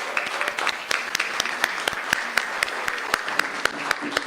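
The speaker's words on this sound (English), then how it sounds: "give her a big round of applause" A standing audience at a health ministry research day applauds in a farewell tribute, a steady wash of clapping with sharp individual claps standing out close by in a quick, irregular rhythm.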